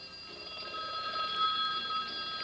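A telephone bell rings steadily in a Western Electric commercial, a bright sustained ringing tone held throughout at moderate level with no one speaking.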